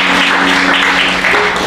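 Church congregation clapping steadily in acclamation of the Lord during a French-language worship service, a dense continuous wash of applause close by with a faint sustained tone underneath and no talking.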